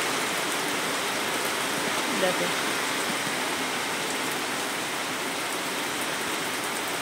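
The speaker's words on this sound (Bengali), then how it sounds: "আমি ছাতা নিয়েও ভিজে যাচ্ছি, কন্টিনিউ বৃষ্টিটা পড়ে যাচ্ছে" Heavy, continuous rain pours outside in a dense, even roar of drops striking surfaces, with a brief voice heard over it.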